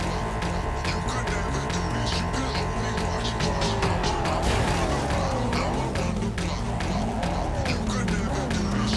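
A car from Cyberpunk 2077 drives along with a steady engine drone, shifting pitch as it accelerates and turns, with rapid clicking or tapping over the top; loud and continuous, no voice audible.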